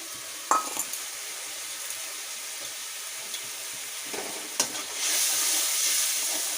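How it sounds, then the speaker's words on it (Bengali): Salt, turmeric and Kashmiri chili powder fry in a pan with a low steady sizzle, marked by a couple of sharp scraping stir strokes, before a louder surge of hissing near the end; no voices. "এবার একটু নড়াচাড়া দিলাম আর এখানে রেখেছি আমি নুন হলুদ আর কাশ্মীরি লঙ্কার গুঁড়ো তিনটে দিয়ে দিচ্ছি"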